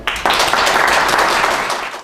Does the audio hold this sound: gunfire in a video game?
no